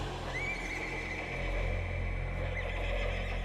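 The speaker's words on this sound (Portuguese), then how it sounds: "El caballo da un relincho, ¿viste?" A horse stung by a freshwater stingray in a river gives a short, shrill whinny that rises and quavers over a steady low rumble, with no speech.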